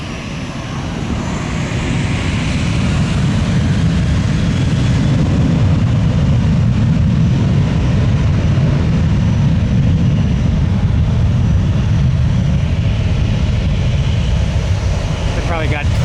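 Allegiant airliner close by on the ground at Tampa airport, a loud, steady low engine roar sustained throughout, with voices talking over it.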